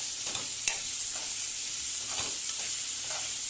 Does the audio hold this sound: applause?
no